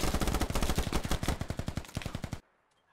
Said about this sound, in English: He puts out some shots.